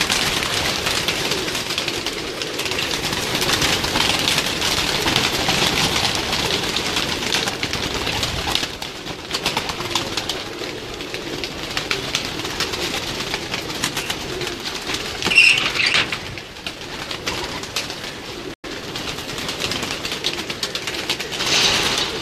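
Racing pigeons kept on a rooftop loft, with soft cooing and occasional wing flaps under a steady, busy outdoor background throughout.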